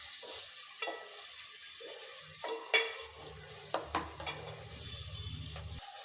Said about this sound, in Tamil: சேர்த்துட்டு நல்லா வதக்கி விட்டுருங்க